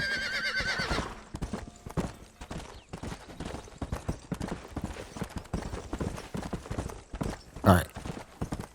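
Horse galloping in the PS3 video game Red Dead Redemption, with rapid, steady clip-clop hoofbeats throughout and a sharp whinny near the end.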